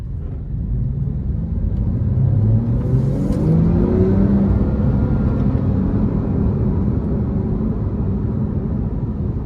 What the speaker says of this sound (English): super fun to drive with these twin turbos